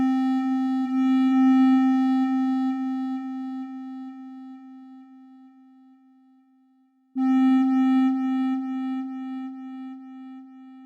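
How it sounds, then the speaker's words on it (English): A sustained sine wave synth note with a delay effect slowly fades out over several seconds, then a fresh steady tone starts abruptly, clean and alone. "You're hearing the delay fade out of this last note."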